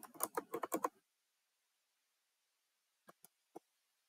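A quick run of close keyboard typing as a library card number is entered on a computer, followed by silence and then three isolated, separate key taps.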